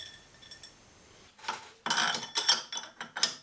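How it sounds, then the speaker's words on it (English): A machined metal flange being screwed onto a milling machine drawbar: faint light clicks, then a run of close ratcheting metallic rattles and clinks in uneven bursts. "That is the flange now made, and it screws onto the drawbar like so."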